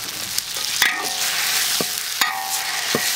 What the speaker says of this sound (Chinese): 把这个先炒一下